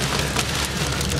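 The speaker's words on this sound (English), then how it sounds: "Oh, man, the hail's coming in," Hail and rain pelt a car steadily during a storm on the I-25 highway, a dense, continuous patter across the roof and windshield with no talk over it.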